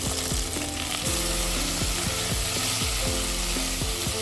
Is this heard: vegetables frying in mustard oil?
yes